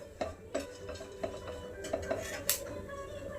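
Seeds roast in a pan on the stove, making faint, irregular tapping pops and light clicks against the metal at a sparse, uneven rhythm, with no talking.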